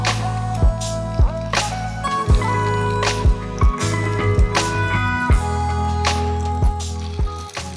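Crab-egg paniyaram batter poured into the cups of a paniyaram pan, giving a steady series of soft plops and drips about every half second over a constant low background hum.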